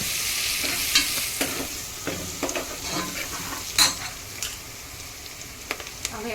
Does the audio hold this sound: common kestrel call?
no